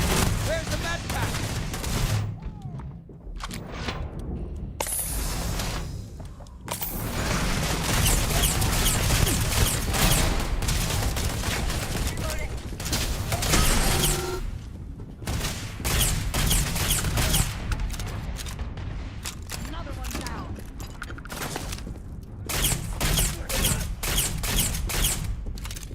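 Gunfire in Starfield during a firefight with pirates, repeated loud bursts of rapid shots and fusillades coming in clusters across the stretch, with brief quiet gaps between volleys and voices talking at times.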